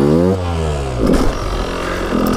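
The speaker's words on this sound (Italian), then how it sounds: "farete la vostra sfrizionata in prima usando il freno" A motorcycle engine in first gear hums at a steady low pitch, then drops and labors unevenly as the revs shift with the clutch slipping and brake applied, loud and close.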